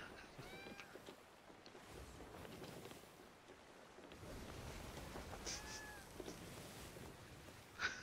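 Two drawn-out cat meows, one early and one later, sound over a constant windy, watery rush of sea and gameplay ambience.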